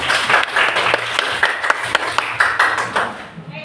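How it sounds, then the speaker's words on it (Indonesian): A small classroom group gives a short round of applause for a presenting writer, distinct individual claps in an uneven rhythm, fairly close, tapering off and ending abruptly. "silakan berikan tepuk tangan untuk penulis satu"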